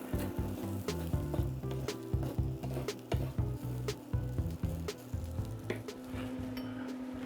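Cooked shrimp and fried rice sizzle in a stir fry pan, a close, steady hiss broken by frequent clacks and scrapes of a utensil stirring against the pan.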